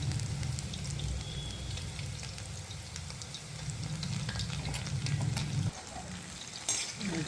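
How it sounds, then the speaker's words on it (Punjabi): Eggplant pakoras deep-frying in oil until crisp and golden, a continuous close bubbling sizzle with light stirring clinks, dipping briefly near the end. "ਹੁਣ ਨਾ ਇਹਨਾਂ ਨੂੰ ਕਰ ਲੈਣਾ ਫਰਾਈ ਤੇਲ ਦੇ ਵਿੱਚ ਚੰਗੀ ਤਰ੍ਹਾਂ ਕ੍ਰਿਸਪੀ ਕਰ ਲੈਣਾ ਇਹਨਾਂ ਨੂੰ"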